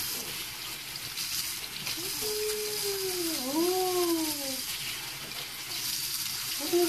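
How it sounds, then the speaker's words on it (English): Running water from a tap pours steadily while a baby's head is soaked and washed, a close continuous splashing with a brief tonal squeal or baby vocal sound partway through. "I'm going to just soak her head for a little bit here and wash it"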